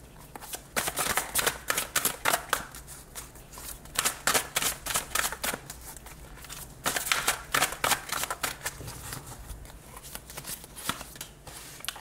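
Tarot cards are shuffled by hand in quick bursts of riffling and flapping, close and crisp, with brief pauses between rounds of shuffling.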